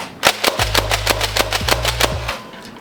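Nerf Rival Forerunner pump-action blaster slam firing foam rounds, with a rapid run of about a dozen sharp, loud mechanical snaps alongside a low mechanical hum.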